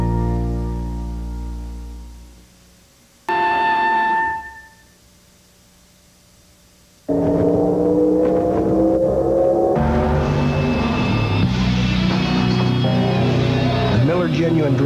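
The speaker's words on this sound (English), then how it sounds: "Genuine draft rusty Wallace stock car." Rusty Wallace's Genuine Draft stock car engine roars loud and steady in a race setting, cutting in sharply after a brief quieter stretch and holding a strong, continuous rising whine, with a voice speaking over part of it.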